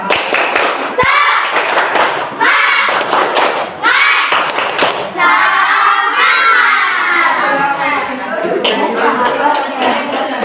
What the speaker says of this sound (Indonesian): Coba guru pengen tahu tepuk semangatnya. Tepuk semangat.